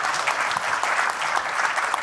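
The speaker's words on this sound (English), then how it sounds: "Please, a round of applause." Applause after an academic lecture: a brief, continuous patter of many hands clapping at an even, moderate loudness throughout.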